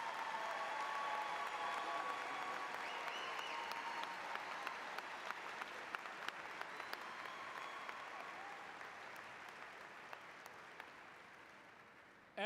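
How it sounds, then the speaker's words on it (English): An audience at a university spring commencement ceremony applauds the master's degree awardees, a broad sustained roar of many hands clapping in a large hall, gradually fading over several seconds with some tones ringing faintly underneath. "can we give all of our master's degrees awardees a big round of applause?"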